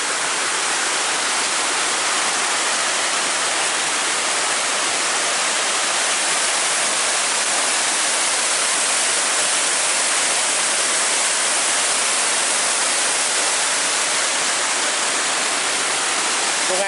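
The flooded Selis River rushes past in a steady, dense roar of flowing water, unbroken and fairly loud throughout, with no voices.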